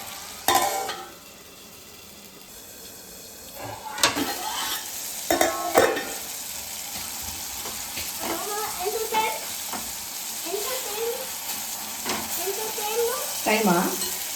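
Tomato and drumstick leaves sizzle softly in a pan as they are stirred, a steady low frying hiss with clinks of a spoon and a few louder scrapes, while someone speaks over it.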